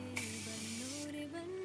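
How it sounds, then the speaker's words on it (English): A Micro Finish makeup setting spray gives off one brief, bright airy hiss of mist lasting about a second. A soft hum sits underneath, and no one talks. "Pack Micro Finish Setting Spray."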